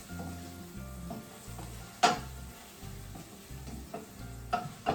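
Onions frying in a pan give off a steady sizzle with gentle stirring scrapes, plus a sharp utensil clink near two seconds and a few lighter taps toward the end, all close and with no voices.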